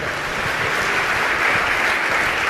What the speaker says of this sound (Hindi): अगर मेरी बात अच्छी लगी तो आप लोग एक बार ताली बजा लो